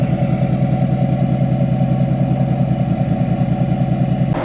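A diesel engine of an L5P Duramax truck idles steadily after a glow plug change, a continuous close rumble with an even low clatter and no voices over it.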